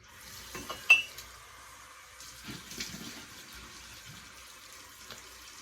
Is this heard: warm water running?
yes